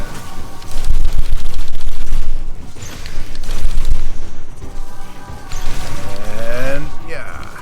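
Loud bursts of gunfire and blasts in the video game Metroid Dread come in clustered volleys, mixed with mechanical clanks and sweeping electronic tones.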